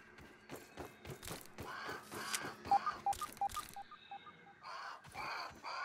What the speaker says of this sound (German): Klang so ein bisschen wie ein Telefon.